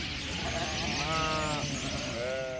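Sheep in a herd on the Hungarian Puszta bleat in a couple of wavering, nasal calls, near and clear over a steady outdoor rush of wind and flock noise.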